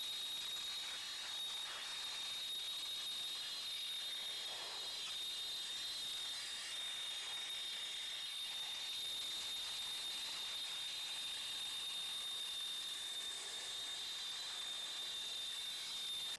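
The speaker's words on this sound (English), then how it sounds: "dry up the engine first." An air blower dries the engine bay of a Dodge Challenger, giving off a steady, loud, high-pitched hiss that holds unbroken throughout.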